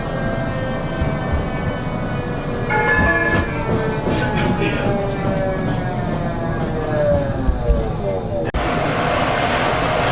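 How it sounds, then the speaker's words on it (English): A Blackpool tram rolls along the track, heard from on board with a continuous rumble, rising and falling wheel squeal and a faint horn-like tone, running steadily throughout. "We are now on the tram and making our way now to Stargate"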